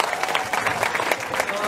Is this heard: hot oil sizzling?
no